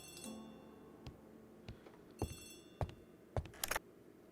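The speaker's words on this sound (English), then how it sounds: "Okay, let's go answer the phone." A telephone rings in the Agatha Christie: The ABC Murders video game, sounding as a few short, separate rings at moderate loudness with no talk over them.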